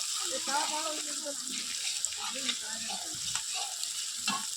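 A cumin paste and spices being stirred in a hot frying pan while cooking Bengali mutton curry, giving a soft steady sizzle with occasional scraping stirs and a voice talking faintly over it.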